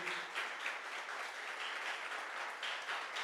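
Church congregation applauds parents presenting their baby, a soft, steady patter of many hands clapping, fairly distant and quiet.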